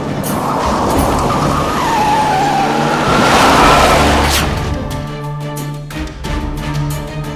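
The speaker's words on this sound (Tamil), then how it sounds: "வண்டியை கொஞ்சம் மெதுவா ஓட்டு" A car driven hard skids with loud, sustained tyre squeal and roaring engine noise up close, the screech swelling then cutting off as the car comes to a stop.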